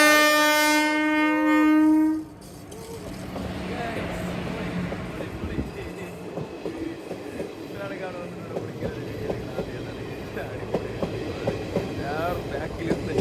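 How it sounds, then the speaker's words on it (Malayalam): A train near Uthralikavu temple in Wadakkanchery, Kerala, gives a loud horn blast, then rumbles past close by with a continuous rolling clatter of wheels. "അടിപൊളി ട്രെയിനാണ് ഗൈസ് ബാക്കിൽ വന്നുകൊണ്ടിരിക്കുന്നത്."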